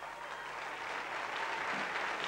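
Arena audience at a junior international gymnastics meet applauds a score, steady dense clapping with crowd murmur, moderately loud and continuous throughout.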